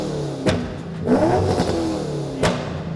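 A Chevrolet C6 Corvette engine revs hard in short, loud bursts, with sharp throttle blips at the start and end and a sustained climb through the middle.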